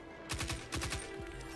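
Gunfire in the video game Destiny 2: a quick volley of rapid shots in two close clusters, followed by one more isolated shot, fairly quiet against a steady game background hum.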